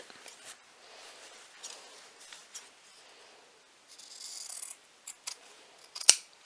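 Sharp scissors trim the fabric corners of a small sewn wipes pouch, with faint handling rustle, a short sliding cut, and a final crisp snip near the end.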